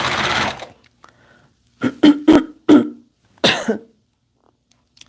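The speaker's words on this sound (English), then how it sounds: "Простите за кашель, за звуки такие." A few sharp coughs in a quiet room, by a woman sewing at a sewing machine: a noisy burst at the start, then three or four close coughs and a final one, with silence between.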